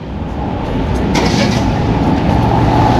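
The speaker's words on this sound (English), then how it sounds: "Traffic, stoplight." Steady road traffic idles and rumbles at a stoplight, a continuous low engine drone of cars and buses with a faint hiss, near and fairly loud, without speech.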